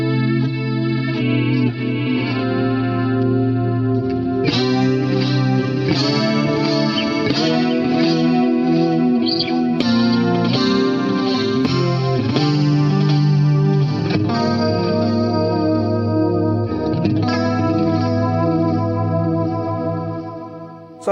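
Clean electric guitar played loud through a 1970s Marshall amp with stereo chorus, a continuous shimmering run of chords and notes with sustained harmonics lasting throughout, no voices.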